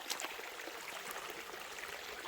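Creek water flows steadily on a farm nature walk, a soft, continuous broadband rush with faint trickling detail, fairly quiet and even throughout with no voices.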